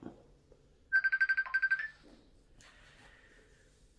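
A mobile phone ringtone chirps in a quick burst of about eight electronic pulses, then a softer tonal echo follows, faint and alone against quiet background hiss.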